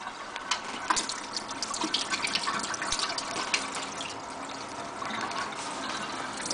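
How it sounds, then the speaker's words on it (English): Hot water swished and sloshed around inside a bottle frozen into ice, loosening it while making an ice pipe; a steady, close, wet churning continues throughout with no voices. "You want to go ahead and swish around the hot water inside."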